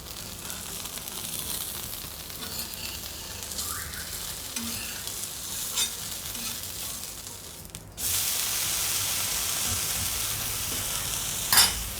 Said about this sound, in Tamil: கொஞ்சம் பொறுமையாக தான் இந்த தோசையை வாக்கணும்